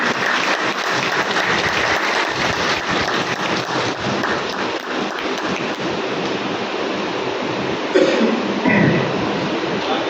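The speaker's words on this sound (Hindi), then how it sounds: "जोरदार तालियों के साथ।" A large crowd at a yoga camp in Barsana applauds in a sustained, dense wash of clapping that stays loud and even for about ten seconds, with a brief bump of extra noise near the end.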